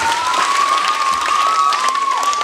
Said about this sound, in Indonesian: Tepuk tangan untuk Dario yang utama.